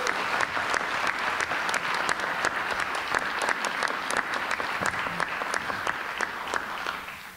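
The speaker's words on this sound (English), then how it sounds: "Let's give him a round of applause." Sustained applause from an audience at an arts awards ceremony, steady dense clapping with sharp individual claps standing out, fairly loud and continuous, tapering slightly at the end.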